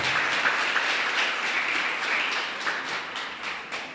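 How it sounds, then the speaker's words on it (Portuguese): A church congregation applauds during a sermon, a dense patter of many hands clapping together at moderate volume, steady for several seconds without speech. "Você pode aplaudir o Senhor?"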